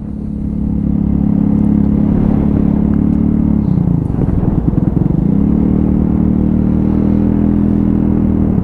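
A Royal Alloy scooter rides through roundabout traffic after repairs, its steady engine drone loud and close throughout with a brief dip and rough flutter midway as the throttle changes.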